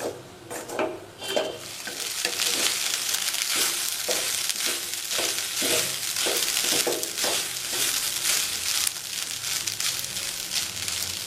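Curry leaves rice being stirred with masala in a hot pan, a spoon scraping in a steady, repeated rhythm over a constant sizzle of frying, close and fairly loud with no voices.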